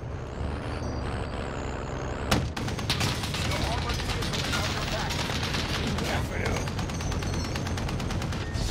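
Rapid, sustained gunfire in the vehicle combat game Armored Royal, a sharp crack followed by a long stream of fast repeated shots over a loud engine rumble, with voices talking underneath.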